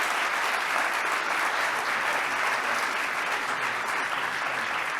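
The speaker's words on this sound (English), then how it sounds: "Let's have one more round of applause for Adrian Melendez." A steady round of applause from a meeting audience at the Amazon Air Hub for Adrian Melendez, continuous even clapping from many hands at moderate distance, held without a break throughout.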